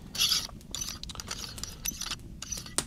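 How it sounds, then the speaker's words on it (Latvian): A mounting ring is screwed onto the end of a rifle scope to fit a Pixfra Chiron thermal clip-on, making soft, close scraping and small mechanical clicks in quick, irregular bursts. "Šo te gredzenu mēs skrūvējam šeit optikai galā."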